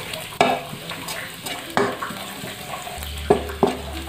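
Pork is stir-fried in a hot pan, sizzling with several sharp spatula scrapes and clacks against the metal in an uneven rhythm, close by.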